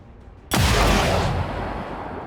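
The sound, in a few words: sniper rifle shot in XCOM 2 video game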